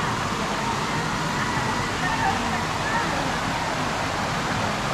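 A clear river runs past riverside cottages, making a steady, loud, close rushing wash of water that stays unbroken throughout.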